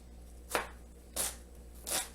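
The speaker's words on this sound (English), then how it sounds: "going to dice this onion super, super small" A knife dicing an onion very small on a cutting board: three crisp, close chops at a steady, unhurried pace over a quiet background hum.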